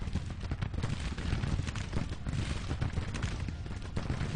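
Civil War battle gunfire in the strategy game Grand Tactician: dense, continuous crackle of rifle volleys and booming shots rolling together at steady loudness, with no voices.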